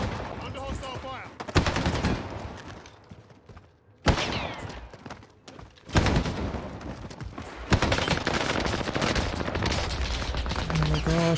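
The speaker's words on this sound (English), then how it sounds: "Under hostile fire." Bursts of rapid automatic gunfire from an Owen Gun in an online shooter match, loud and close, with dense fusillades broken by brief lulls and resuming in sustained volleys toward the end.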